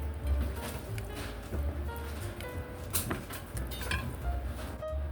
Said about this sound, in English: I'm going to add the potato and the carrots. I'm going to mix it up.